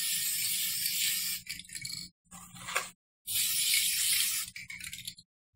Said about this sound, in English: Gotta make sure your spray paint works first.